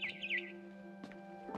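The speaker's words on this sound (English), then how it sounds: "It was a barn swallow going back to her nest." A barn swallow in the video game What Remains of Edith Finch gives a short burst of quick twittering chirps at the start, faint over a low steady hum, followed by a couple of soft knocks.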